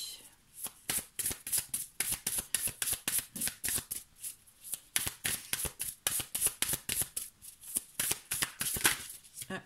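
Oracle cards are shuffled by hand, close up. Crisp riffling bursts repeat in a quick, steady rhythm for the whole stretch.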